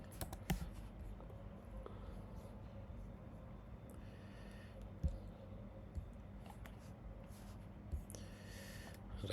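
Fingers typing on a computer keyboard, a faint, irregular patter of soft key clicks with a few sharper taps, quiet and close, with scattered breaths and a voice nearby.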